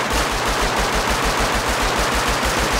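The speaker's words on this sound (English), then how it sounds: "He shot him through a bush." Sustained rapid automatic gunfire in the survival game Rust, loud and close, with evenly spaced shots running continuously for nearly three seconds and no talking over it.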